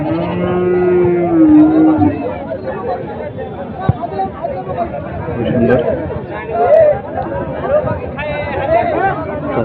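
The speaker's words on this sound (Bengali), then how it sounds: "সামনে তিনটা চমৎকার ছাগল দেখতে পাচ্ছি" Goats bleat at a crowded livestock market in Dinajpur, a drawn-out wavering bleat up close followed by scattered fainter calls amid loud chatter and someone speaking.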